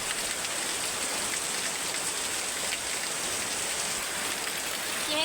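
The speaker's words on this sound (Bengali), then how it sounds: "খুব জোরে মানে বৃষ্টি হচ্ছে, প্রচুর পরিমাণে বৃষ্টি হচ্ছে" Heavy rain pours down steadily, a dense, unbroken wash of drops drumming on surfaces close by, loud and constant with no voices over it.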